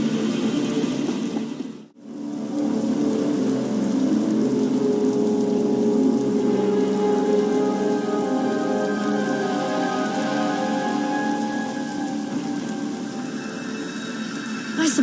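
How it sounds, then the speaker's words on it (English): Steady heavy rain falls in a storm in the video game Star Wars: The Old Republic, a dense continuous hiss on surfaces with a brief drop-out near the start. "Hard to track them through the storm. Rain's wiped out the trail."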